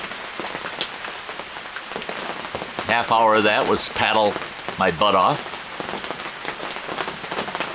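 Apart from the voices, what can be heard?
rain falling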